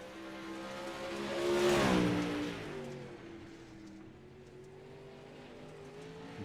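Late model race cars running hot laps at Weedsport in a racing video game, engines droning as one car swells closer and passes by, then a steadier, fainter engine hum.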